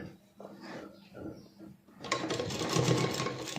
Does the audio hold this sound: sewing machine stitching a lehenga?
yes